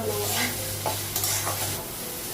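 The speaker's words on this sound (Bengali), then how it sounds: "আলুটা ভাজা হয়ে গেছে" Fried potatoes stirred in a kadai on a gas stove, a steady close sizzle with scraping stirs over a low hum, no talk.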